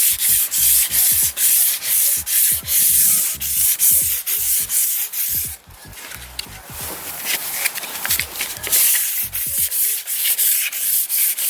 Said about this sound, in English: I'm just gonna slightly mar the surface here, just scuff it up, and we'll be gloss painting everything